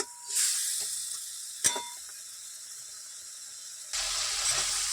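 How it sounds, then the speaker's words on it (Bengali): Spice paste sizzling in a pan after a splash of water, a steady frying hiss with a sharp clack near the middle and a louder burst of sizzle toward the end, no talking. "মশলাটা কষিয়ে নেব।"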